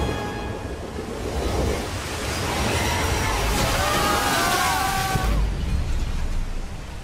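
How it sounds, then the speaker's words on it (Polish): Waterfall in a Harry Potter video game (Deathly Hallows Part 2), the Thief's Downfall, rushing as a steady broadband roar throughout, with a few rising tonal game effects partway through. "Wodospad złodzieja! Zmywa wszystkie zaklęcia!"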